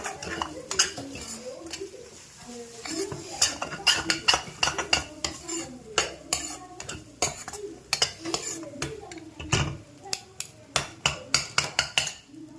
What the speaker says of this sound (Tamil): இதை இப்போ நல்லா நம்ம மிக்ஸ் பண்ணிக்கலாம்